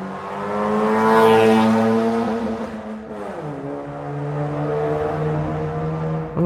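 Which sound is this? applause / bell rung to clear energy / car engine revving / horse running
car engine revving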